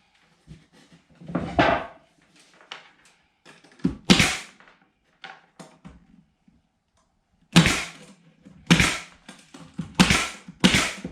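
A staple gun fires staples through boards and plywood into a 2x4 while a storage pallet is built, giving a series of sharp, loud snapping shots at irregular intervals with quiet gaps between them.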